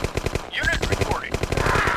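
Rapid automatic gunfire from a turret in the Command & Conquer video game, a dense stream of sharp shots over roughly two seconds, loud and close, with other game effects sweeping through the middle.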